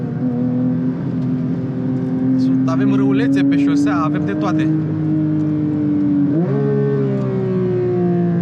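A Porsche 911 GT3 Touring engine drones steadily from inside the car while someone talks over it. The pitch climbs gently, then jumps up sharply near the end as the revs rise.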